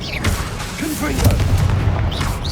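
The Confringo blasting spell detonates in Hogwarts Legacy with a punchy fiery boom and crackling burst, trailed by whooshing magical swirls, loud and close.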